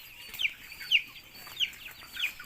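Chickens in a backyard coop cluck in a steady rhythm, four short bright calls spaced about half a second apart, near and moderately loud with no voices.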